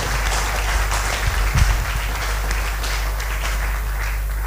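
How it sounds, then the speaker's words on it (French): Church congregation applauding and acclaiming together, a steady wash of clapping and cheering voices over a low hum, swelling briefly near the middle and holding even for the rest. "Apprécions Jésus-Christ par nos acclamations"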